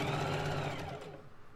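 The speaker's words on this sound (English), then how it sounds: "Make the straps stay up and sew around the top part." A sewing machine runs steadily while stitching around the top edge of a fabric beach tote bag, its fast, even whirring close and loud before it slows and fades toward the end.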